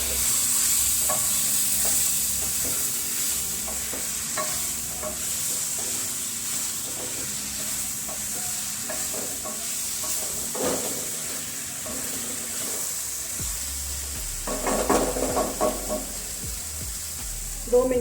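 Sliced tinda (apple gourd) sizzles steadily in a hot pan while a spoon stirs it with occasional scraping clatters, close and continuous, with no speech.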